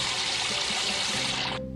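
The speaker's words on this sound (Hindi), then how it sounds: "ओ, पानी आ गया, पानी बाहर निकल रहा है।" Water gushing out and flowing in a steady loud hiss and splash, continuous and close, cutting off abruptly at the end.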